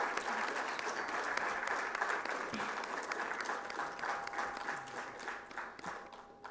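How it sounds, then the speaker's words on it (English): Sustained audience applause honoring the participants at a live event, a dense steady wash of many hands clapping throughout, close and loud, without pause. "Give a huge round of applause to all the participants."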